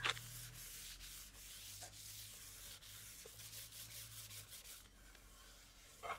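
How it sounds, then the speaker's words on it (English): Sandpaper rubbing over a painted garage-sale piece by hand, in quiet close strokes: a series of soft, scratchy passes with brief pauses between them, faint and alone without talk. "I don't wanna sand through anything."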